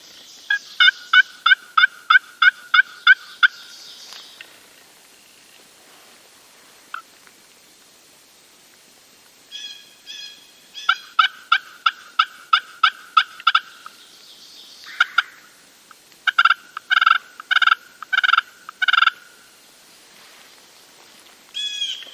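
A turkey call struck while hunting spring gobblers in West Virginia, loud and near, playing several runs of rapid, evenly spaced yelps separated by short pauses, with quiet outdoor air between the runs.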